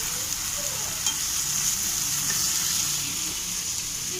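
Steady, loud sizzling of prawns frying in hot oil, a continuous bright hiss with faint crackles throughout, no voices.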